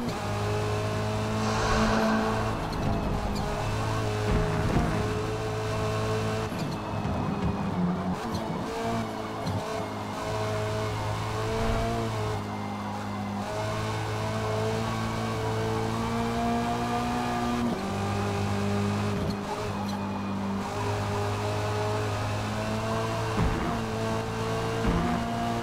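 A Lynk & Co 03 TCR race car in Forza Motorsport drones loudly with a sustained engine note that shifts pitch through gear changes and braking, with tire squeal through corners and other cars audible over about 26 seconds.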